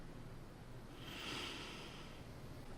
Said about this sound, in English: Longer sniffs.